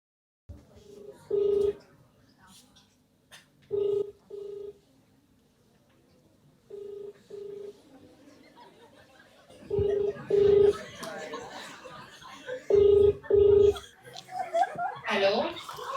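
A telephone prank call rings out with repeated paired ringback tones in a steady on-off rhythm, while people talk and laugh nearby.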